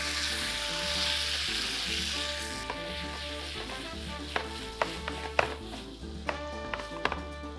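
A large Roma tomato sizzles in a hot wok for Nepalese momo chutney, giving a steady frying hiss with scattered sharp taps of a utensil against the pan toward the end, with no talking.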